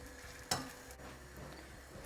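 Leek, mushroom and cheese wrap frying in a pan on medium-high heat, a steady quiet sizzle with one sharp clatter early on, no talking.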